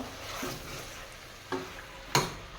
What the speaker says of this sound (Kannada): ಈ ಮಸಾಲೆಯಲ್ಲಿರೋ ಹಸಿ ವಾಸನೆ ಹೋಗೋರ್ಗೂ ಇದನ್ನು ಕೂಡ ಫ್ರೈ ಮಾಡ್ಕೊಳ್ಬೇಕು